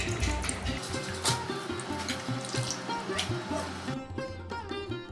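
Mutton being washed with onion in water at a kitchen sink, with steady running and splashing water, sloshing and clatter throughout, loud and close, with no speech.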